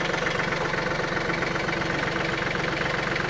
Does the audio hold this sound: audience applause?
no